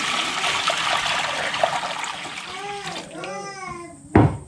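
Water is poured into a container during home processing of labyaban (panaryen) in a rural province, a steady rushing pour with a sharp splash near the end, while children's voices talk in the background.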